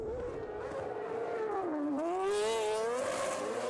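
A racing sidecar outfit howls past on the Southern 100 road circuit, its high-revving engine a sustained loud whine that dips and then climbs sharply in pitch as it accelerates away, with no talking.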